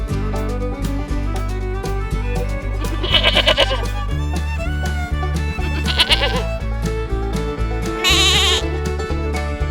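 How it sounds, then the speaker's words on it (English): Three short, wavering goat bleats ring out one after another over a steady, bouncy nursery-rhyme backing track that plays throughout. "Goat,"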